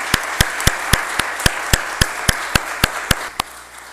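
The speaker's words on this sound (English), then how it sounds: "Can we please give our task force members a big round of applause?" Applause for task force members at a Temple University announcement, heard as sparse, evenly spaced sharp claps, roughly one every quarter second, standing out over a soft broadband background wash with no talking.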